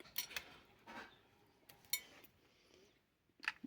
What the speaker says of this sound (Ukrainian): вилку саму вперед вигинаємо і ручку назад